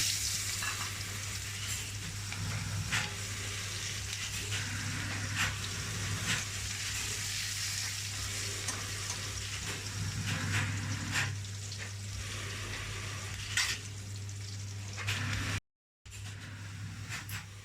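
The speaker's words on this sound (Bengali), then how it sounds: "এবার তেলের ওপর দিয়ে দিচ্ছি কেটে রাখা পেঁয়াজ।" Steady, close sizzling of chopped onions frying in hot oil left from frying rohu fish, with occasional brief scraping stirs; the crackle continues throughout without any talking.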